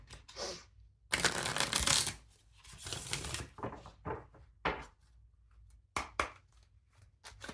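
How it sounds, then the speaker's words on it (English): Tarot cards riffled and shuffled in several bursts, a long loud flurry followed by shorter crisp riffles and taps, close by with no talking. "I'm going to do a nice big shuffle to these cards too."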